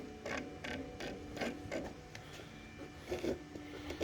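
A flood-damaged gate motor with jammed springs grinds and creaks in uneven mechanical bursts, with rattling spring-like clicks repeating at moderate volume and no talking.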